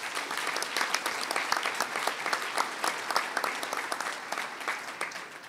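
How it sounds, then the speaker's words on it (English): Applause for award winners at a New York Rising community reconstruction conference hosted by the governor, steady dense clapping from a large audience lasting throughout and tapering slightly at the end, with no talk over it. "let's give them one more round of applause."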